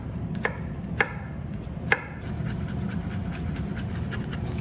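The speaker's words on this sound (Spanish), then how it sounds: "Igual, lo cortamos bien finito." Knife on a cutting board mincing garlic finely, with a few sharp, distinct chops spaced about half a second apart, then softer continuous scraping over a steady background hum.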